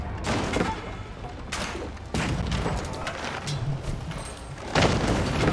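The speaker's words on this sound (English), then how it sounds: "Cannon getting some good damage there." Cannons firing on the Spitskaya Tower in an Age of Empires 4 siege: repeated heavy booms and crashes over dense, noisy battle clamor, several sharp impacts within a few seconds.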